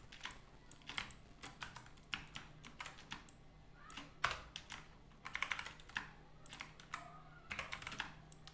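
Computer keyboard taps and mouse clicks from someone designing a dress digital print, a close, irregular run of sharp clicks and short bursts of typing with brief pauses between.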